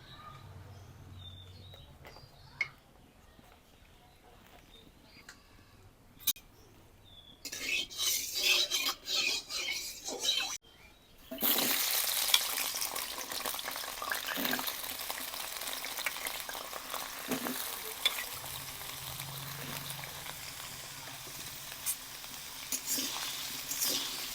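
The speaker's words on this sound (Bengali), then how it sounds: "কড়াই গরম হয়ে গেছে, আলুটা ভাজে নিই।" A hot wok goes from quiet clinks of utensils to a sudden loud, sustained sizzle as potatoes drop into the oil, and the frying roar carries on with light stirring scrapes.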